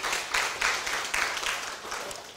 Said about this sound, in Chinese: 我们跟他鼓掌一下